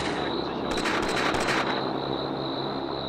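Pillbox gunfire in the World War II strategy game Combat Mission: Beyond Overlord: a short, crackling burst of rapid shots in the middle, set over a constant loud droning rumble.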